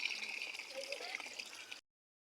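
Free-flowing mountain spring water running from an uncapped outlet in Barangay Lalawigan, Camarines Norte, a close, steady splashing gurgle with a voice faintly underneath, cutting off abruptly.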